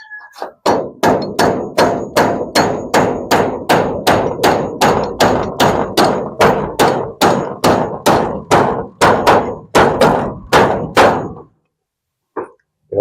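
Rapid, regular hammer blows, around twenty loud strikes in a steady rhythm, close by, then a brief pause and a final hit.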